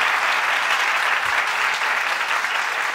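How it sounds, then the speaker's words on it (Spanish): Dense, steady audience applause fills the whole stretch at an even, loud level, with no voices breaking through. "Aplaudan, mierda."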